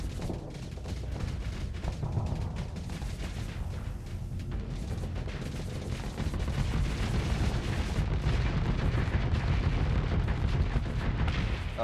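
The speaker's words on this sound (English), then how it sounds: "you see the power of those assault chain guns." Assault chain guns firing in a space combat video game, a dense continuous rumbling barrage of rapid booming shots that grows heavier partway through, loud and unbroken.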